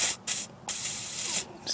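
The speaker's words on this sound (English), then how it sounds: "I'm going to use some liquid wrench and soak them because they can be pretty hard to get off" Short aerosol bursts of Liquid Wrench penetrating oil hiss onto the brake caliper bolts of a 2006 Infiniti G35, several quick sprays separated by brief gaps, close and fairly loud with no talking.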